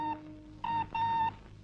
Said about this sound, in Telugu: రంగమ్మా, ఫోన్ తీసుకురా.